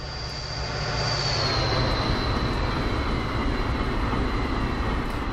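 A train rolls past on the tracks in Train Simulator, a loud steady rumble of wheels on rails with a thin high squeal that drifts slightly lower as it goes by.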